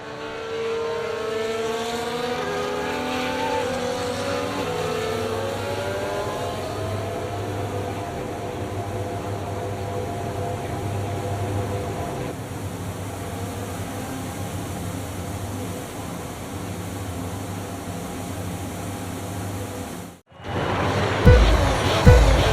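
Formula 1 race car engines idling and buzzing on the starting grid in F1 2024, a steady dense drone with a falling tone early on, cut off abruptly near the end before louder bursts.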